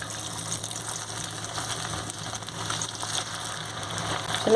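Chicken and baby corn pakoda fry in hot oil, a steady, moderately faint sizzle and bubbling hiss that runs without pause, with a slight rise at the end.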